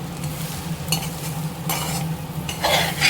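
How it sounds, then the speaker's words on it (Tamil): Okra coated in gram flour and rice flour is stirred in a pan over low heat, with a steady sizzle and bursts of scraping and clinking from the utensil, close up. "இது சிம்மிலே வச்சு இப்படி கிளறி விட்டு எடுத்துக்கலாம்."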